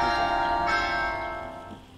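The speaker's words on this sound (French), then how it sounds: "Savourez le carillon, hein." Bell chime in The Elder Scrolls Online, a clear tolling tone with a bright strike near the start that rings on and slowly fades over about two seconds, heard alone without talk.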